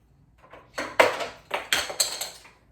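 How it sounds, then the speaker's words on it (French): Small plastic cover being pushed into holes on a Tower Garden tower, several quick close plastic taps and clicks in a short cluster. "ce que vous venez d'entendre, c'est un petit couvert que je me suis procuré pour boucher les trous"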